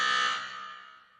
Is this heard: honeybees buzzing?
no